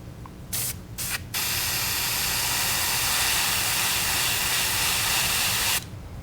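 An airbrush sprays paint onto a fishing lure through a stencil to build a crackle shad pattern: a few short hissing bursts, then a long, steady, close spray hiss.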